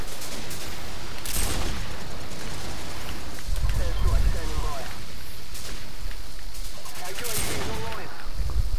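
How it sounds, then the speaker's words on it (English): Gunfire from Call of Duty 4 sounds in several sharp bursts and single shots scattered through an otherwise noisy, steady background. A player talks over much of it. "Why did I shoot like that high above him then?"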